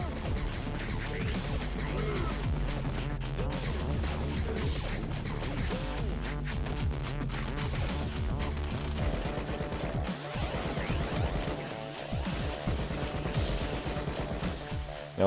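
Rapid gunfire and crashing impacts fill a fight in the video game Rocketbirds 2: Evolution, dense and continuous over game music, with bursts of shots layered throughout.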